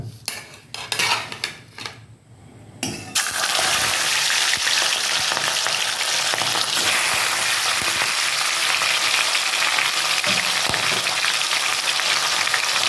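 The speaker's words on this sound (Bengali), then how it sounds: "কড়াতে তেল নিয়ে নিয়েছি তেলটা অলরেডি গরম হয়ে গেছে তো আমি এখন মাছগুলো দিয়ে দিয়ে ভেজে নেব" Fish pieces are dropped into hot oil in a wok for a Bengali fish curry, bursting into a loud, steady sizzle that holds to the end after a few seconds of utensil clatter and pan handling.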